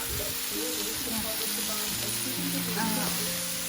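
Meat sizzles steadily on a flat electric grill at a barbecue dinner, a constant crackling hiss heard close up while someone talks over it.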